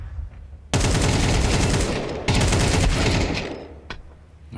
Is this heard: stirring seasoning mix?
no